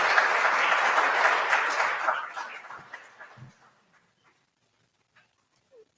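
Applause from an audience at a volunteer awards ceremony: dense clapping for about two seconds that thins into scattered claps and fades out to near silence.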